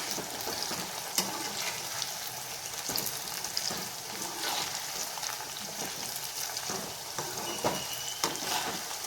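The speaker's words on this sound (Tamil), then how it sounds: "வாழைக்காயை எண்ணெயில் போட்டிருக்கேன்" Plantain pieces deep-frying in oil give a steady, moderately loud sizzle and crackle, broken by occasional sharp pops and spatters, with no voices over it.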